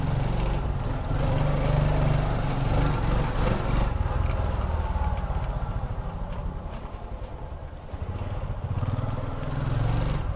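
A motorcycle engine used for food delivery runs steadily at a low rumbling idle, close and fairly loud, with a continuous throb that dips slightly partway through.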